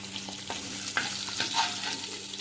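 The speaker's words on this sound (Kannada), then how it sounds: "ಈ ಎಣ್ಣೆಯಲ್ಲೇ ನಾವು ಈರುಳ್ಳಿ ಫ್ರೈ ಮಾಡಿ ಮಸಾಲ ಫ್ರೈ ಮಾಡುವ" Onion and masala frying in hot oil in a home kitchen pan for paneer gravy, a steady close sizzle with light stirring scrapes and soft pops throughout.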